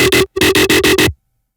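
Grimy synth bass pushed through overdrive, compressor, saturator and OTT multiband compression plays a loud buzzing stab, a short gap, then four rapid rhythmic pulses before cutting to silence.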